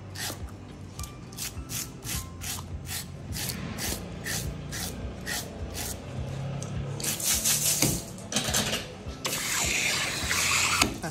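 Hake being scaled, a rapid run of rhythmic scraping strokes close by, with harsher, denser rasping bursts toward the end and no talk.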